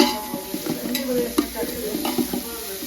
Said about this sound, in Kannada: ಈರುಳ್ಳಿ ಹಾಕಿ ಫ್ರೈ ಮಾಡ್ತಾ ಇದ್ದೀವಿ